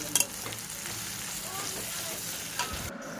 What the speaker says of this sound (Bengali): তো দেখো মশলা কষানো হচ্ছে